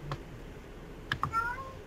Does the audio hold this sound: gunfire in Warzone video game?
no